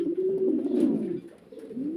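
Low, throaty cooing rises and falls from pigeons in a farm loft, the sound close and full at first, dipping briefly near the end before swelling again, with no one speaking.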